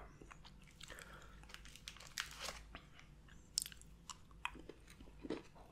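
Dutch sugar candy is bitten and chewed close to the microphone, giving a series of sharp, crisp crunches at irregular intervals, soft and intimate against quiet background.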